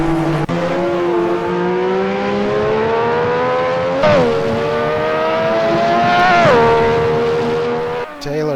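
Engines of Lotus 98T race cars in a racing video game, a loud, sustained high-pitched whine with rising and falling pitch as the car shifts gears and accelerates, alone without speech.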